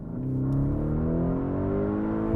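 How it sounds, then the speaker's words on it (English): A 2024 Lamborghini Urus Performante in Strada mode at full throttle, its engine rising in pitch as it accelerates, loud and close with a steady building growl. "what if we go to Strada mode, let it chill out, and then floor it"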